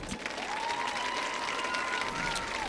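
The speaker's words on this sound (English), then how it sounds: "please give the 2024 Football Homecoming Court a big round of applause" Crowd applause for the 2024 Football Homecoming Queen at a Greenwood High School football game: dense, steady clapping from a distant stadium crowd, with a sustained tone like a whistle or horn over it.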